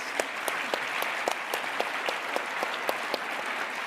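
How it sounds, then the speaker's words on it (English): A crowd at eBay Open 2025 claps steadily in sustained applause, many hands blending into a dense patter with a few sharper claps standing out. "I would love to just give your team another round of applause"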